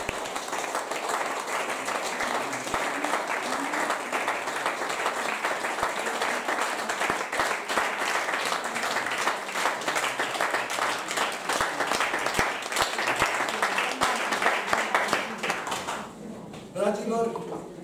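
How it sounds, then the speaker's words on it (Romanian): An audience applauds artists after a live poetry and song performance, steady dense clapping running for about sixteen seconds before fading, with a voice beginning to speak near the end. "hai să mai aplaudăm pe artiști"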